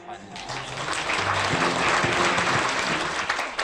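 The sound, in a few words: audience applause welcoming a speaker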